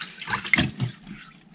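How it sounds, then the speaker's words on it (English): Water splashes onto an Aotoshi whetstone during knife sharpening in a few quiet, close, irregular spatters and trickles with no voices. "by splashing some water on the Aotoshi"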